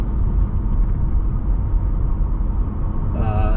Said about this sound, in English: It's just different feel because it sounds like a V8.